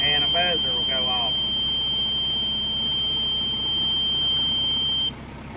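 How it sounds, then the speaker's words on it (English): A steady electronic warning buzzer on a round baler, the full-bale alarm of a New Idea 483 or Massey Ferguson 1745, sounds continuously for about five seconds and then stops. Someone speaks briefly at the start. "And a buzzer will go off."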